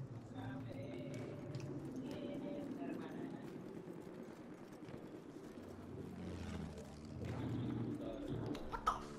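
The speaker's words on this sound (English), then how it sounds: "Hey, there's a horse coming." A horse gallops in the video game Battlefield 1, its faint rhythmic hoofbeats drumming under low battlefield ambience, with muffled voices in the mix.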